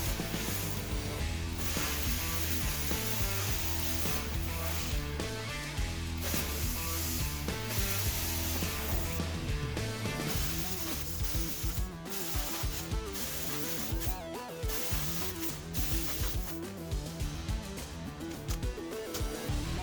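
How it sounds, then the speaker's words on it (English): Metal being cut for the side vents of a smokeless fire pit, a continuous harsh grinding rasp that holds steady and close for the whole stretch with no talk. "I'm going to cut the side vents in half."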